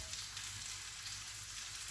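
Food sizzles and crackles gently in a pan, a soft, steady frying hiss that continues evenly with no voices.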